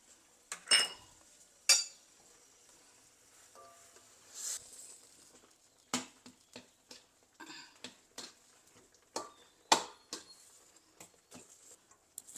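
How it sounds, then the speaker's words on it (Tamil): Scattered scraping and clinking of a spoon stirring semolina in a metal pot, irregular strokes close by, fairly quiet with no talking. "இப்போ இது நல்லா கொதிக்குது அந்த ரவையை போட்டு கிளற போகிறோம்"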